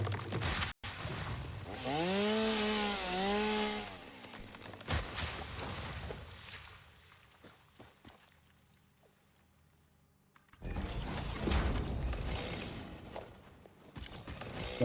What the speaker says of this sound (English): Let's get the chainsaw because I was just gonna attack this thing.